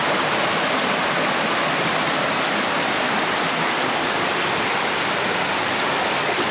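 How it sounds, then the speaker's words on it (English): Irish Brook Falls rushes in a steady, dense roar of falling water, loud and unbroken, with no other sounds standing out. "I'm starting to enjoy the waterfalls when they're not flowing really, really strong."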